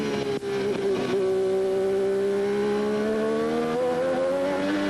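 A 1987 Formula 1 car at the Japanese Grand Prix brakes hard from around 185 mph for a tight right-hander, its screaming engine dropping through quick downshifts to third, loud and close with a steady rising whine afterward.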